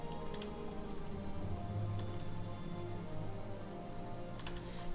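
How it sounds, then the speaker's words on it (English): Rain falling in the Morrowind video game, a steady soft patter with scattered ticking drops over a low background hum, even and continuous with no voices. "thank you so much for making it rain"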